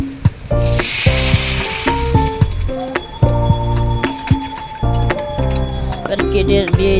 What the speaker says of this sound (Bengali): আলুটা ভালোভাবে ভেজে তার মধ্যে বড়ি আর কাঁচা লঙ্কা, নুন, হলুদ দিয়ে দেবো।